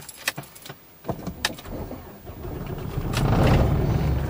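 Keys jangle in the ignition with a few sharp clicks, then a Mitsubishi L200 pickup's engine starts and settles into a rising, close rumble.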